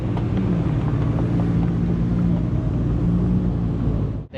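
McLaren P1 followed by a Ford Mustang GTD, both supercars, driving past with a loud, steady engine rumble and drone that holds for several seconds and then drops away sharply at the end.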